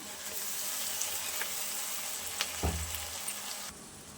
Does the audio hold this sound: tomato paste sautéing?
yes